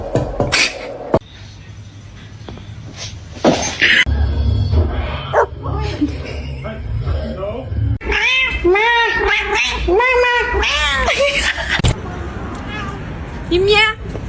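A kitten meows repeatedly in high, wavering cries, close and loud, with voices talking around it and occasional handling noises.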